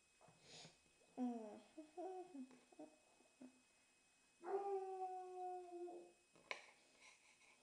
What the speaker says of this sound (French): C'est rien, c'est mon chien qui aboie.